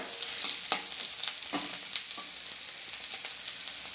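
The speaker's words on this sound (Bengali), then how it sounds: "আঁচটা আমি কিন্তু মিডিয়াম করে সবজিগুলো ভাজবো।" Carrots and other vegetables frying over medium heat in a pan for a home-style veg dal, giving a steady close sizzle with scattered crackles and occasional stirring scrapes, no voices.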